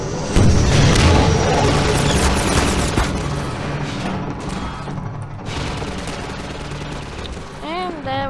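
Rocket launcher blasts and explosions from the Half-Life 2 video game, dense booming crashes and rattling fire filling the scene loudly and continuously, with a whining creature-like sweep near the end.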